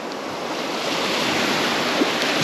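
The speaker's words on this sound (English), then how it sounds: "Getting a bit more waves now, which is good. I mean, bass like waves." Sea waves breaking on a Sussex reef, a steady broad wash of surf that stays loud and continuous throughout, with light wind noise on the microphone.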